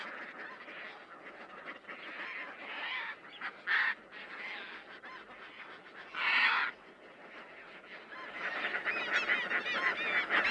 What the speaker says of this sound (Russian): Так живет колония этих чудных и шумных птиц